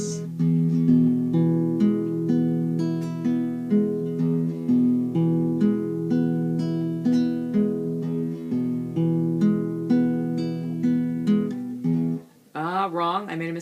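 Guitar playing a slow etude of arpeggiated chords, plucked notes ringing in a steady repeating pattern, close and clear, ending abruptly as a voice starts talking.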